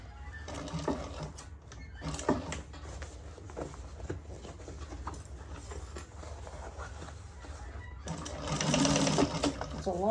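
A sewing machine top stitching a carry-all bag runs in a steady mechanical whirr with short pauses and a faster burst near the end, while someone talks over it.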